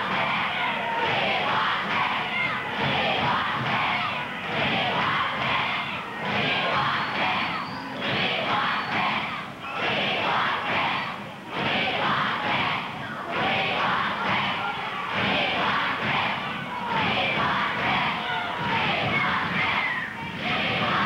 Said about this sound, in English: You hear the cry of the crowd.